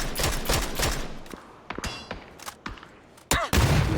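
Gunfire from the battle royale game PUBG: rapid bursts of shots open the sequence, followed by scattered single cracks and a heavy thump near the end, at close range and fairly loud.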